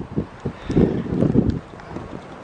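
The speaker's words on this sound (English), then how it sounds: "You can probably hear that wind." Cold gusty wind blowing outdoors in Casper, Wyoming, on a 43-degree day, buffeting the microphone in low rumbling surges that swell in the middle and ease off, with no talk.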